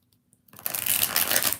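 Tarot cards being shuffled, starting after a brief quiet moment into a dense, continuous riffling flutter that runs close and steady to the end, with no voices.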